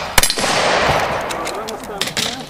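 Gunfire at a shooting range during a cowboy action duel, a few sharp cracks close by, spaced irregularly with quieter clatter between, while someone speaks in the background.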